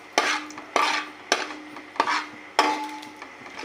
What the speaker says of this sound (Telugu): దాల్చిన చెక్క, లవంగాలు, ఇలాచి వేసి మంచిగా ఫ్రై చేసుకోవాలి.